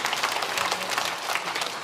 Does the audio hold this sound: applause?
yes